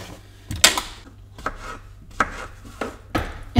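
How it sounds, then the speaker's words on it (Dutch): A kitchen knife cuts mushrooms into quarters on a board, giving a series of distinct, close chopping thuds at irregular intervals, about six cuts with no talking. "En de champignons die ga ik in kwarten snijden."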